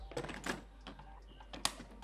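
Xtrike Me GK-916 mechanical gaming keyboard with an ABS plastic frame, a handful of sharp key clicks in an irregular rhythm, close and fairly quiet over a low hum.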